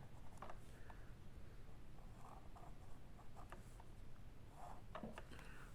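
A pen traces a centre line on paper while making a Christmas tag for an envelope, giving soft, close scratchy strokes in short bursts against quiet background noise.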